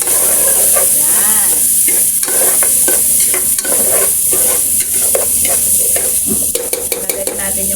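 Rice stirred and fried in a pan with browned aromatics, a steady loud sizzle with repeated scraping stir strokes throughout, a brief voice heard over it.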